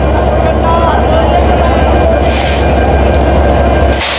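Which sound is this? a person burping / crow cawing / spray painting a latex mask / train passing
train passing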